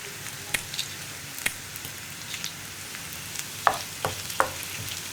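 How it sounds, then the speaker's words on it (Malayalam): Dried red chillies fry in a pan with onion and coconut: a soft, steady sizzle broken by scattered sharp pops and stirring scrapes, close by. "ഞാനിപ്പോൾ ഇനി വറ്റൽമുളക് ചേർക്കുകയാണ്."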